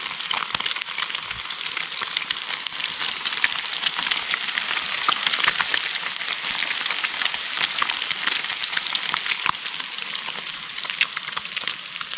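Food frying in a pan, a loud, continuous crackling sizzle with dense popping spatters throughout, no voices.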